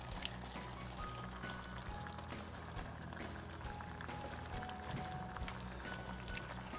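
Crushed tomatoes are poured into a cooking pot of chili, a soft continuous wet splattering and sizzling hiss at low level, steady throughout without any talking.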